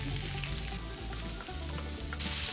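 Chopped onion and curry leaves dropped into hot oil with cumin and asafoetida, a dense continuous sizzle with low rumbling pan noise underneath and a sharper hiss flaring near the end, no voices.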